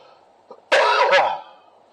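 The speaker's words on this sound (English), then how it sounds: "I get a persistent cough." A nearby person gives a short, loud cough burst of two quick pulses, with faint rustling before it and quiet after; dogs are around in the setting.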